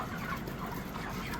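Crowded chickens cluck and murmur steadily inside a crate during loading at night, a dense, continuous flock chatter with no single bird standing out.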